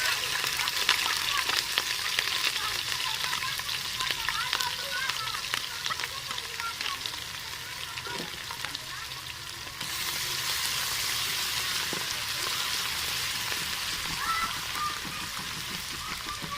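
Garlic and ginger fry with browned onions in a pan for a cabbage, chickpea and carrot vegetable dish, a steady close sizzle that carries on unbroken, growing slightly brighter partway through, with occasional stirring clicks.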